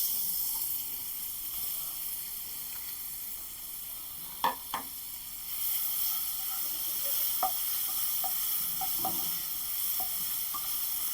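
Onion frying in oil in a pan for a peas and cauliflower dish, a steady soft sizzle throughout with a few brief stirring clicks and scrapes, no talk.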